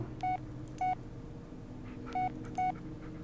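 Four short electronic phone dialing beeps in the Blair Witch video game, evenly paired with a pause between, sounding clear over a low steady background hum.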